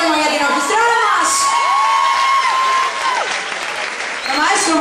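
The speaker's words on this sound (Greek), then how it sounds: "Άλλο ένα δυνατό χειροκρότημα για την ορχηστράδα μας!" Loud audience applause and cheering for the orchestra at a Greek nightclub stage show, a dense sustained roar of clapping with whoops, while a voice talks over it near the start and end.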